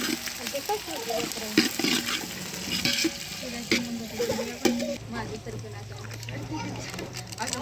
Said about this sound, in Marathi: हिरवी मिरची टाकली, आता हलवून घ्यायला